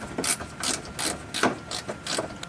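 A socket wrench clicks rapidly in short ratcheting bursts, about six quick strokes in a row, while turning a 10mm headlight mounting bolt on a Toyota 4Runner.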